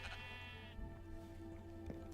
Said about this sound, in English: I shouldn't have any baby sheep.